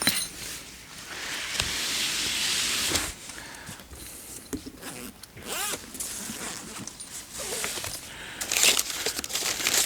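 Packaging being opened while unboxing Milwaukee M18/M12 cordless tools: continuous close crinkling and rustling with zipper-like rips and occasional light clinks, fairly quiet throughout.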